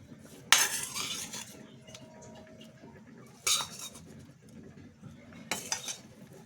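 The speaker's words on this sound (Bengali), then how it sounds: "তো চলো ভেজে রাখা সবজিগুলো এখন দিয়ে দিই" Fried carrots, cauliflower and beans tipped into a khichdi pot, three separate bursts of metal utensils clinking and scraping against the pot, close, with quieter rustling in between.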